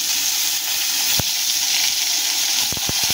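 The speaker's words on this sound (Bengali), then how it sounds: "যেহেতু এটা বেগুন ইলিশ হচ্ছে, ওই জন্য আমরা বেগুনগুলোকে আগে ভেজে তুলে নেব" Brinjal pieces frying in hot hilsa fish oil, a steady loud sizzle and hiss with a few sharp pops and crackles near the end, no talking.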